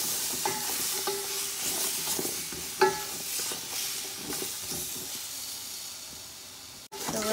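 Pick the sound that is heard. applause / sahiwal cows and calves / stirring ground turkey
stirring ground turkey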